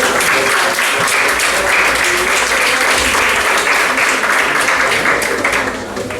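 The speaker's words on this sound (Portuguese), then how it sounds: "o vosso aplauso para ele" A lecture audience gives sustained, loud applause to a speaker on Portuguese spiritual tradition, with dense, even clapping throughout that tapers slightly at the very end.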